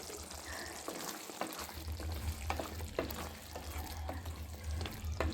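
Butter paneer masala simmers and sizzles in a pan, a soft continuous frying crackle with a few light stirring clicks, close but quiet, with no talking.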